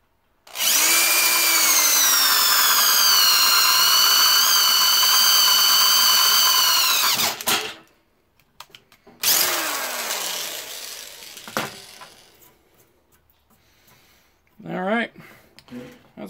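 A power drill tightens screws on motor mount brackets for a follow-me robot chassis, with one long loud whirring run, then a shorter burst that spins down, and a brief final buzz, near and clear.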